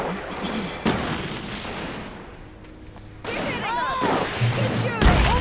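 Gunfire and impacts during a fight in the video game Alan Wake, with bursts of shots, thuds and crashes mixed with shouting voices over a tense game soundtrack.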